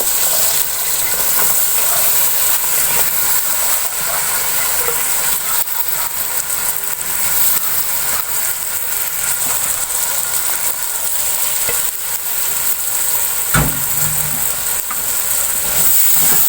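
Thinly sliced potatoes hiss and sizzle steadily in a hot pan with tomatoes, a continuous close frying crackle with no talk.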